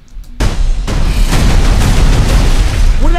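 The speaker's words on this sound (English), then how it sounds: "I said no explosions!" A huge explosion booms from a Borderlands movie trailer, a sudden loud blast followed by sustained rumbling and crackling debris that fills the clip.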